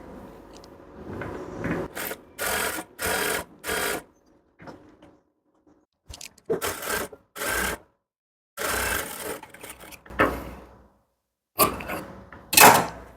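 A sewing machine stitches a blouse lining in short repeated bursts of whirring, separated by quiet pauses and faint handling of fabric.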